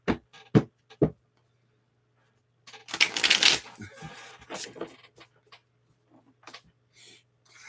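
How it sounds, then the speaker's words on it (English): A deck of playing cards being shuffled up close, with a few sharp taps and then a dense riffling burst followed by scattered lighter card flicks and handling sounds. "Let me go ahead and shuffle these."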